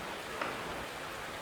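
Rain falls outdoors in Gambia where children keep playing, a steady, even hiss of drops on the ground with no distinct voices.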